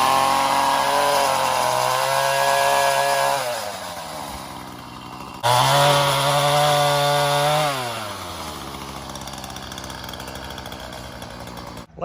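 A small chainsaw runs loud and close, revving with a steady harmonic whine, then dropping back toward idle; after a brief cut it revs again and settles into a lower idle.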